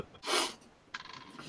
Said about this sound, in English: She does have a cute sneeze.